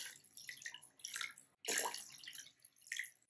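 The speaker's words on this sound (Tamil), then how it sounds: "அந்த 3 கப் தண்ணியுமே நம்ம வந்து பவுலில் போட்டுடலாம்" Water from a cup is poured in three close splashing bursts into a bowl of tamarind, the last pour strongest, with burbling and gurgling between.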